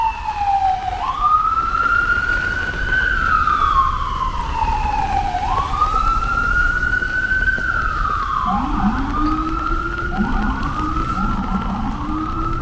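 A wailing ambulance siren rises and falls repeatedly on a Brooklyn street, loud and close, with traffic rumbling underneath.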